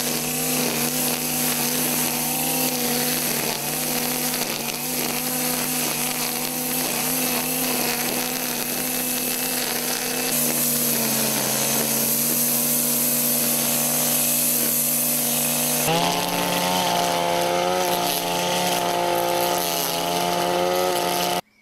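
A Honda BC35 brush cutter with a GX35 engine and string trimmer head runs continuously in a loud, steady buzzing drone, its pitch shifting up slightly partway through as the throttle changes.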